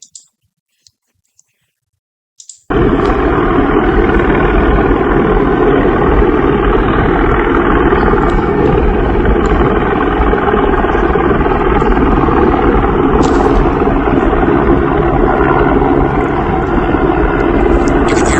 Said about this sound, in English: So there was two helicopters in Denmark following a drone.